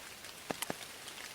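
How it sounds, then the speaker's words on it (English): Soft, sparse raindrops ticking on a surface, a few distinct drips over a quiet steady patter of light rain. "The rain's slacked off now"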